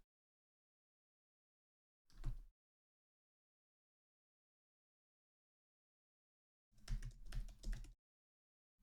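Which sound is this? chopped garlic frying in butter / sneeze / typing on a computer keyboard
typing on a computer keyboard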